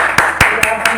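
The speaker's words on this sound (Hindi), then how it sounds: "तालियां बजाइए अपने लिए।" A seminar audience of DXN distributors claps in a brisk, even rhythm of about four sharp claps in one second. The claps are loud and close, over a room-tone background.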